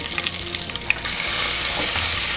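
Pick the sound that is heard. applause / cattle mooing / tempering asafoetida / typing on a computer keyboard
tempering asafoetida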